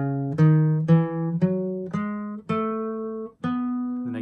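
Single electric or acoustic guitar notes picked one by one in a jazzy B mixolydian scale run with a flatted seventh, about eight clear sustained tones in steady succession, close and alone with no talking.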